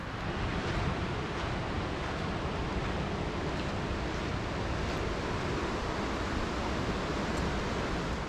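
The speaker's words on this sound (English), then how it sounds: "So this is the base of the falls" A steady, dense roar of rushing water pours continuously, broadband and unbroken, at the base of Murray Falls.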